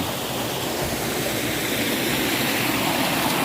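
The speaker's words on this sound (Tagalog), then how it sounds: "sa lakas ng tubig sa lakas ng agos ng tubig" A strong mountain stream in Agusan del Sur rushes over large rocks, a loud, steady roar of water close by that stays unbroken throughout with no voices.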